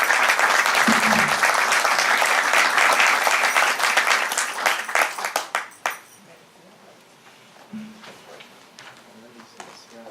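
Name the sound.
audience applause welcoming a speaker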